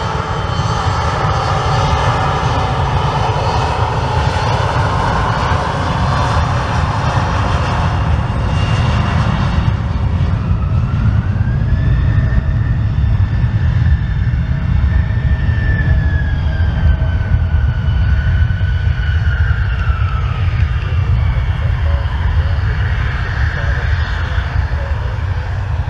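A Delta airliner's jet engines roar steadily and loudly as the plane departs, a continuous heavy rumble with a rising whine over it and people talking faintly underneath.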